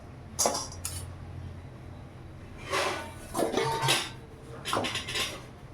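Metal cake pan and lid being handled while a mango cake is prepared, several sharp clanks and rattles in short bursts with quiet pauses between, close and fairly loud, no talk.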